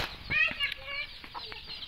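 A rooster in an Odisha village gives short clucks and crowing calls, fairly close but faint, in a quiet rural setting.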